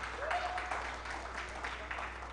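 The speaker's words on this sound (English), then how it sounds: "Clap for these guys." An audience at an African launch event claps in a steady, moderately distant patter that continues throughout, with no voices standing out.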